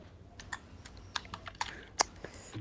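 Rapid, uneven clicks of fingers typing on a computer keyboard, a dozen or so sharp keystrokes in quick bursts, fairly close and distinct over a quiet room background with no talking.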